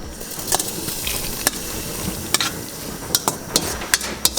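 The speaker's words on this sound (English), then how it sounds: "Now I'm going to grab my pasta and put it into this sauce." Cooked pasta stirred into a pan of sauce, a steady wet scraping and squelching bed with a few sharp utensil clicks against the pan, close and fairly loud, no talking.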